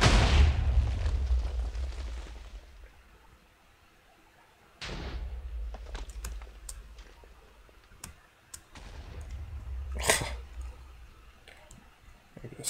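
TNT cannons in Minecraft fire together with a loud blast, followed by a run of sharp pops, clicks and further explosions spread across the stretch, some near and some thinner, with no talking.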